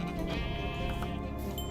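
Sheep bleating in the video game Minecraft, a sustained wavering bleat that rises and falls over a layer of continuous ambient game sound, with no one speaking.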